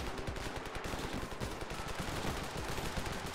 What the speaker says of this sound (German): Auf was schießt ihr?